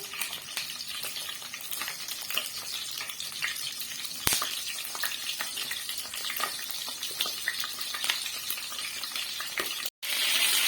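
Peppers frying fast in hot oil for a moussaka dish give a steady, dense crackling sizzle with sharp pops throughout, close and loud, broken only by a brief cut near the end.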